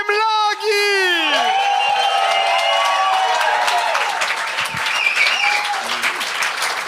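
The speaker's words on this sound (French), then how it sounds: "Un tonnerre d'applaudissements pour celui qui brise la glace" A studio audience at a comedy talent show greets a stand-up comedian with loud, sustained applause and cheering. Crowd noise fills the room while a voice is heard over it.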